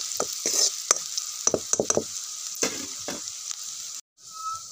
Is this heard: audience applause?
no